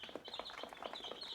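Black Australorp chicks on day five of brooding in a Zambian village chirp in a busy chorus of quick, high peeps, close and continuous, with no voices over them.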